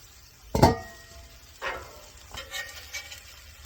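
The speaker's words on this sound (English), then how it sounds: "You just basically just cook those until your cheese melts." Smash burgers topped with cheese cook on a hot griddle, giving a faint low sizzle punctuated by a sharp spatula scrape or clank and a couple of softer knocks.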